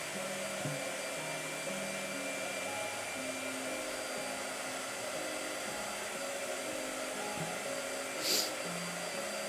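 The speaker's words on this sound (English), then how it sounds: "Blow dryer." A hair dryer runs continuously, a steady airy blowing hum held at an even level throughout, with a faint brief click near the end.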